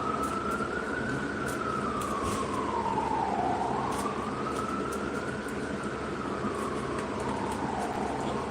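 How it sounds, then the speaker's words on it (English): A wailing siren rises and falls in long sweeps, loud and steady over a constant rumble of traffic. "You're gonna know what it means when you hear sirens like that."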